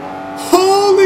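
Lamborghini Veneno in Forza 5 pulling hard through third gear on the Nurburgring, a loud, rising engine howl that climbs steadily after a brief lift, close and dominant throughout.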